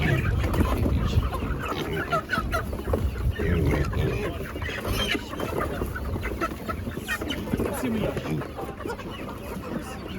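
Chickens cluck and squawk throughout at a market, several birds close by, mixed with voices talking and general crowd noise.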